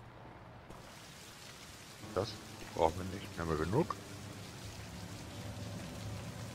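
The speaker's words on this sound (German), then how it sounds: "Sogar hier im Gebäude hört man den Regen." Steady rain heard from inside a building in the video game Left 4 Dead 2, a constant soft hiss running beneath people talking.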